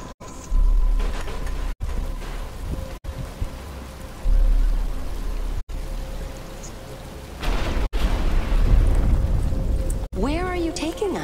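Rain starts falling in a Batman: Arkham Asylum game cutscene, a steady hiss broken by several abrupt cuts, with low rumbles and a short run of chirping tones near the end.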